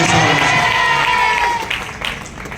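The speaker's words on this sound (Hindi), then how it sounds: "जब ये जूनियर आपके लिए तालियां बजा सकते हैं तो क्या आप इतने बड़े हो गए कि इनके लिए तालियां नहीं बजा सकते?" Audience applause with crowd noise at a women's growth event, loud and dense at the start, then thinning into scattered claps, with voices and some tonal sound mixed in.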